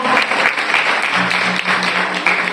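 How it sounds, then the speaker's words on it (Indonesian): An audience claps in steady, dense applause throughout at a school culinary practical exam staging a Javanese Mitoni seventh-month pregnancy ceremony, loud and continuous with a faint hum underneath. "Beri tepuk tangan yang meriah."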